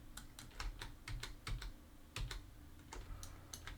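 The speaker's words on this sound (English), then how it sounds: "let's press 1 on the keyboard." Typing on a computer keyboard nearby, a quick irregular run of clicky keystrokes with short pauses, heard alone without speech.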